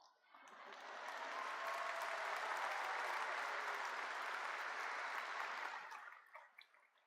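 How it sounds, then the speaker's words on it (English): A crowd at a university commencement ceremony claps in sustained applause that swells quickly, holds steady for several seconds, then tapers off with a few last claps. "For our graduates, we should clap for moms."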